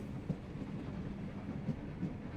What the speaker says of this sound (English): The train is slowing.